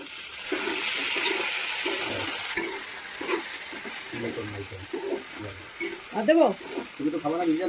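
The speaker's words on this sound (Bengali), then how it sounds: "ভালো করে নাড়াও ভালো করে নাড়াও" Food frying in a pan gives a soft, steady sizzle while it is stirred, with quiet scraping and people talking close by.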